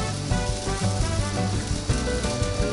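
Pancake batter sizzles in a NuWave Medley XL electric skillet, a steady close hiss partly buried under loud background music.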